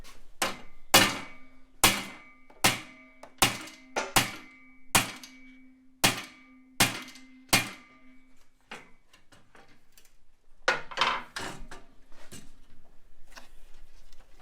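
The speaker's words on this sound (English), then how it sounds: "We like hammers." A hammer strikes an LS radiator bracket in a run of about ten sharp metallic blows, spaced roughly a second apart and ringing with a low tone. Fainter taps and scraping follow after a short pause.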